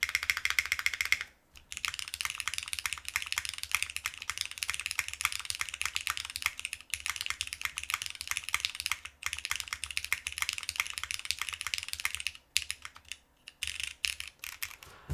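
Steady, fast typing on a Cloudnine R2 mechanical keyboard with a plastic plate, close and crisp clacks in a continuous run with a couple of brief pauses.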